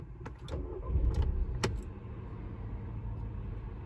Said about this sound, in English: I'll now just start the car